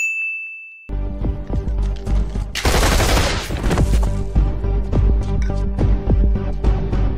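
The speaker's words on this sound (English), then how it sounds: "Hearing the sound of gunfire coming from somewhere really close by" A brief electronic beep, then a loud close burst of rapid gunfire with rattling, clanging shots that continue in a dense volley.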